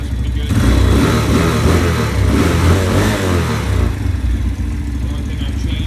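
A 125cc Venom motorcycle engine revs near the mic, the pitch rising and falling through a throttle blip in the first few seconds before easing back toward a lower running note.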